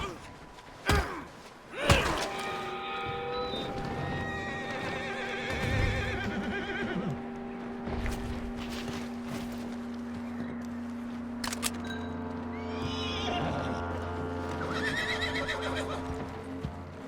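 A horse in the Western video game Red Dead Redemption 2 whinnies loudly and close, with a few hoof thuds and clip-clops mixed into a game soundtrack that has music and brief voices.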